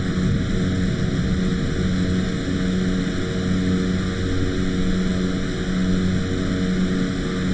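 Steady droning cabin hum of a Cessna C208B Caravan single-turboprop aircraft in Flight Simulator 2020, cruising on an IFR flight from Dallas to Hot Springs; a constant, even engine and propeller drone with no voices.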